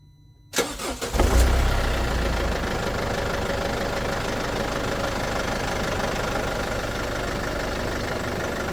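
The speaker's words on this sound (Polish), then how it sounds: "No jak widzicie silniczek chodzi, ale ładnie pracuje na nowym oleju jak zawsze." A Mercedes Sprinter 906 316CDI diesel, with fresh oil, cranks briefly, catches and settles into a steady, close, clattering idle that runs to the end, with no voices.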